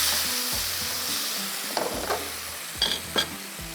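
Frying in a pan, a close steady sizzle with a few scraping stirs and clinks of a utensil toward the end.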